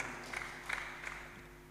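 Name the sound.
congregation applauding in church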